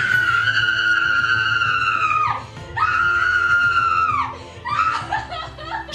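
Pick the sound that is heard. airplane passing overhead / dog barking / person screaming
person screaming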